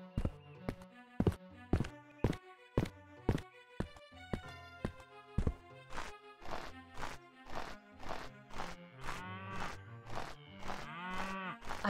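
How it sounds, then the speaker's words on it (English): A cow moos in the video game Daggerfall, heard alongside a steady series of rhythmic thuds and clicks that build into a busier, layered stretch near the end. "I hear a moo."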